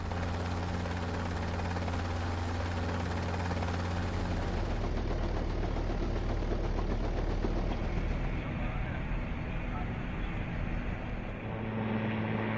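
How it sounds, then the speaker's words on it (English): A VH-3D Sea King or VH-60N White Hawk helicopter roars steadily nearby, its rotor chopping in a rapid continuous thump under a loud engine drone that shifts partway through. "the squadron flies the VH-3D Sea King and the VH-60N White Hawk helicopters"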